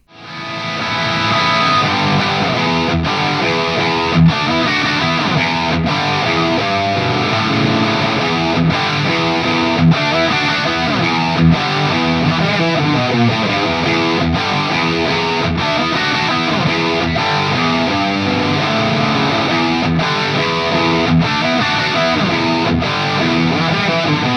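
A heavily distorted electric guitar played through a PRS Archon 50 amp plays loud, sustained chords and notes steadily and continuously, with a thick, saturated tone and no voices.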